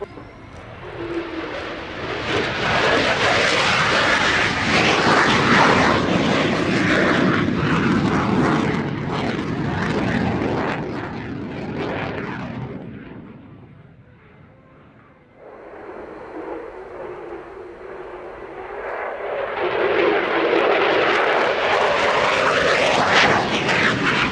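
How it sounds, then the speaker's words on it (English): A Solotürk aerobatic display jet roars loudly past the crowd, its engine noise swelling, fading briefly to a low rumble, then surging back strong and close. "Solotürk will salute you by the nose of the plane"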